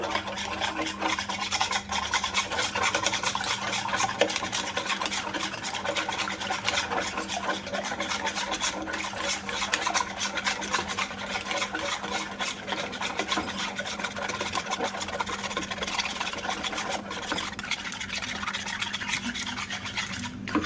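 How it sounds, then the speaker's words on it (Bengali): Eggs being beaten in a bowl with a steady scraping, rasping whisk rhythm for a jaggery (gur) pudding, continuous and close for the whole stretch with no talking. "এবার আমি ডিমটা বেশ ভালো করে ঝুলিয়ে নেব"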